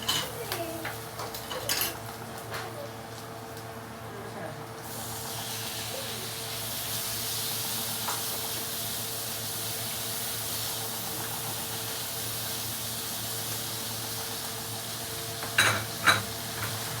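Pork pieces with a little cooking oil frying in a wok for pancit canton guisado, a steady sizzle with occasional stirring clinks of utensil against pan, close and continuous.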